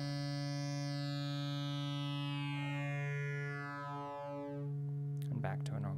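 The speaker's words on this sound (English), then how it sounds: "just by raising the dial here, I'm starting to fold our sine wave" A steady synthesizer tone, a sine wave run through an Endorphin.es Godspeed+ wave folder, with bright, shifting overtones sweeps downward, thinning out near the end before a brief voice cuts in.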